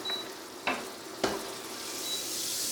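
Butter sizzles softly in a hot pan while crepes are made, with a steady low frying hiss broken by two sharp clicks of a utensil.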